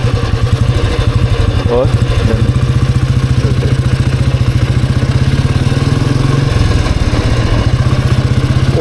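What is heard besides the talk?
Royal Enfield Bullet motorcycle engine running while riding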